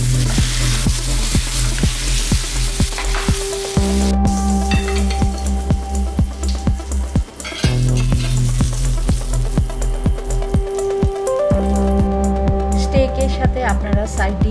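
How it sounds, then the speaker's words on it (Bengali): Beef steak sizzles steadily in a pan of melted butter with rosemary and smashed garlic, a continuous crackling fry with occasional spoon or utensil clinks, while a voice talks over it. "গলানো বাটারটাকে স্টেকের উপরে দিয়ে দিচ্ছি।"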